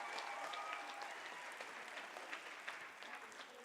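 An audience at an FCCLA conference applauds the booth crew, a steady wash of distant clapping, fairly faint and continuous with occasional sharper claps, no voices over it.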